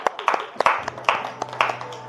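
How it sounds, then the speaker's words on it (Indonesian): Brief burst of classroom clapping for a student group, about five quick uneven clusters of claps over two seconds, close and fairly loud. "beri tepuk tangan dulu untuk kelompok simpati"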